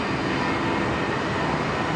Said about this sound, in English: There we go, Jetstar 906 now. Off to Townsville.